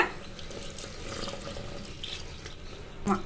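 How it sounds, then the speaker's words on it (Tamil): Water running steadily, pouring from a tap into a cooking pot of curry, a continuous gentle splash with a brief clink near the end. "இப்போ தண்ணி சேர்த்துக்கலாங்க."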